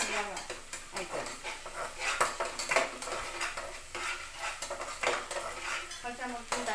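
Ginger garlic paste cooking in a pan for a flat bean dish, with rapid scraping and clattering stirs of a spoon against the metal over a soft sizzle, close and continuous.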